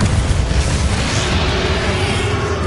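Confringo explosive spell cast in Hogwarts Legacy on PS5, a loud, dense rumbling blast with a roaring fiery rush that fills the whole moment without letting up.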